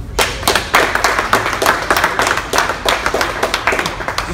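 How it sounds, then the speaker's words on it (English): A small group claps for a Volkswagen technician at a car dealership, with loud, close, individually distinct hand claps in an uneven rhythm, about two to three per second, sustained throughout. "one I think we need to give him a round of applause on for sure"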